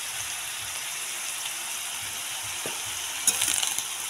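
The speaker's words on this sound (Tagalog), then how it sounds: "Haluin lang natin siya." Chopsuey vegetables sizzle and fry in a hot pan as they are stirred, a steady bright crackle with a few louder scraping clatters of the utensil near the end.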